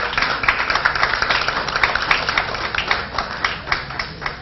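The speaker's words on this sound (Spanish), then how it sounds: "Un aplauso para ellos, por favor." An audience at the close of an international seminar applauds the speakers, a dense, steady patter of many hands clapping throughout, moderately loud and continuous.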